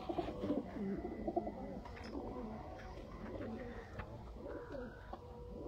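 Sialkoti 35 high flyer pigeons cooing, repeated soft throaty coos from several nearby birds, overlapping in irregular bursts with light chirps and faint background sounds.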